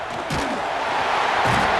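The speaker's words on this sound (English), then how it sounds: "Decibels rising as the crowd gets behind this defense on 3rd down" Stadium crowd noise in a college football video game, a dense loud roar building on a third-down defensive stand, with a commentator's voice over it.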